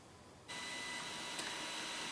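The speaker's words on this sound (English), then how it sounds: "I'm going to apologize if you can hear the other printer here. It's actually printing for once. So, it makes a little bit of noise." A Creality resin 3D printer running mid-print, a faint steady whirring hum that starts abruptly partway through and then holds, with a brief high tick near the end.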